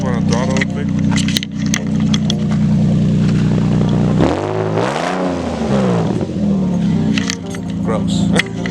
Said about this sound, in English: I'm gonna step on the throttle real quick